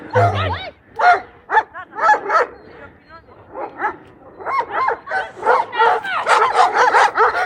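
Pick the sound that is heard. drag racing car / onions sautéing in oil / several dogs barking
several dogs barking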